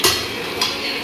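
Chicken pakoras frying in mustard oil, a steady crackling sizzle with a couple of sharper stirring or turning clatters over the hiss.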